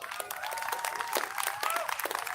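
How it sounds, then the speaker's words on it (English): A crowd at an outdoor community rally at La Raza Park breaks into applause, a brief burst of dense clapping with voices and some whoops mixed in. "Let's give them a round of applause."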